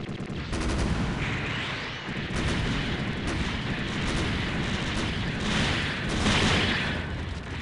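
Weapon fire in the SD Gundam Online game, from the S-rank Gundam Leopard Destroy mobile suit, rolls on as a dense, continuous barrage of booming shots and blasts, loud throughout with no voices.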